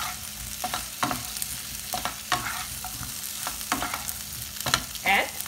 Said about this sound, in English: Let them fry for a while.